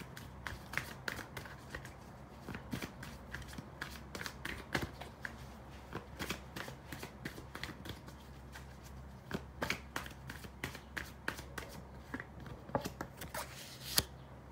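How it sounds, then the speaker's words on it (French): A deck of cards is shuffled repeatedly, giving a quiet, close stream of crisp riffles and taps, with no talking. "Je vais rebattre les cartes."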